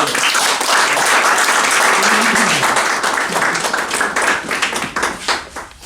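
An audience claps steadily throughout at an Armenian literary gathering honoring writer Anatoly Hovhannisyan, a dense, loud wash of many hands that holds its pace and then grows more uneven and scattered toward the end.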